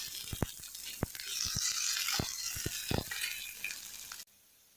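Ginger garlic paste sautéing with onions in a pan, a steady hissing sizzle punctuated by sharp clicks and scrapes of a stirring spoon, close and moderately quiet, cutting off abruptly near the end.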